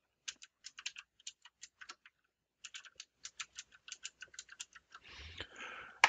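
Fingers tap on a computer keyboard while account login details are entered, producing quick, crisp, irregular clicks in two runs with a short pause between, close and fairly quiet, followed by a brief rustle at the end.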